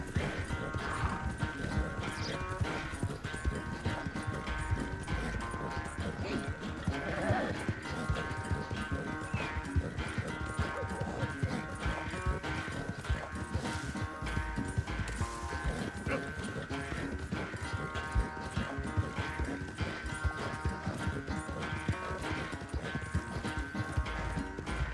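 A horse gallops in Red Dead Redemption 2, its hooves pounding in a rapid, steady rhythm for the full stretch, loud and close over game music and ambience, with occasional snorts.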